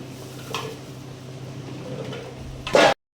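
Side-slit olives are tossed in a bowl with salt, sugar and red pepper, making soft scraping and a clatter of utensil against the dish that builds to a louder clink near the end.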